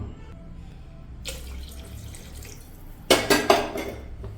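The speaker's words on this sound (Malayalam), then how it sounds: "ഇനി നമുക്ക് ഇതിനകത്തേക്ക് വെള്ളം ചേർത്ത് കൊടുക്കാം." Water goes into a pot of basmati rice for a pressure-cooker vegetable biryani. A quiet stretch gives way to a brief pour, then a few louder splashing bursts with light metal-pot clatter, and no talk.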